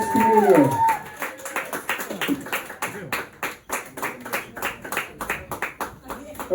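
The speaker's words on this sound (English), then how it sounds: "Please everyone give a big round of applause to Ryan Thompson, our next comedian." A comedy show audience in County Kerry claps after a comedian is introduced, starting with a voice over the opening claps, then rhythmic, fairly close applause with individual sharp hand claps continuing steadily.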